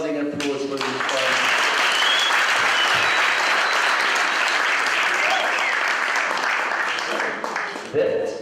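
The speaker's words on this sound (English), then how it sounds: "How about a real rousing applause for these guys?" Rousing applause from a live audience at a campus green initiative event, dense steady clapping that swells within the first second and holds loud and continuous, with a faint voice at the very start.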